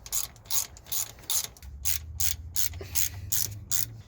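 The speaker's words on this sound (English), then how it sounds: "once you get those bolts in, you can just tighten them down." A ratchet tightens alternator bolts on a 2005 Chevy Silverado, with loud, close bursts of rapid pawl clicking repeating in a steady back-and-forth rhythm about every half second.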